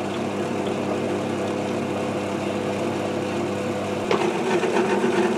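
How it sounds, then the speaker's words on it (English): A machine counterbores M3 holes for socket head screws, a steady close motor whine and hum that shifts and roughens briefly near the end as the cut changes, with no speech. "So the last thing to do now is to just counterbore these M3 holes for the socket"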